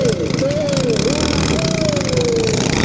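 Racing boat engine running at a boat race, a loud continuous drone with a wavering tone, with people talking over it.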